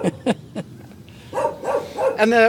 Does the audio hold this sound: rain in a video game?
no